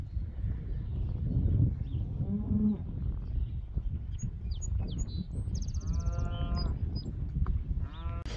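Cows on a farm moo several times at middling distance, low drawn-out calls spread across the scene with other livestock bleating faintly and birds chirping in the background.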